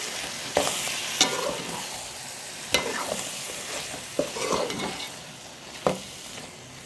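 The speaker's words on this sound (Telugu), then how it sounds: "అంతా కలిసేలాగా ఒకసారి కలుపుకోవాలి" Chicken gongura curry with green chillies and tomato sizzles in a pan while a spoon stirs it, five or six sharp scraping clanks spaced a second or so apart over a soft, steady frying hiss.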